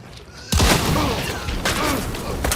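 A loud gunshot bursts out in Hunt: Showdown, followed by rolling gunfire, a second sharp report and a few more shots, under a noisy game soundscape with a voice talking.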